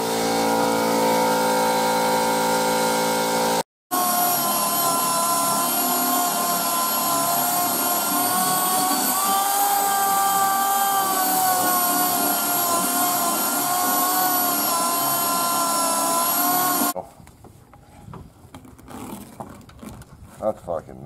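A power sander grinds bondo on a car roof, a loud continuous high whine that holds for about thirteen seconds after a brief start, then cuts off and leaves quieter scattered handling noise.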